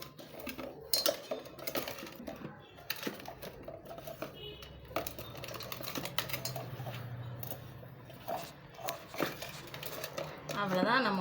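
Cauliflower masala is stirred in a bowl, with steady close clinking and scraping of a spoon against the dish, as a voice speaks intermittently.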